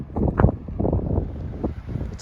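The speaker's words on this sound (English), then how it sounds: "It's pretty windy." Gusty wind buffets the microphone in low, uneven rumbling bursts, close and rough, with no voices.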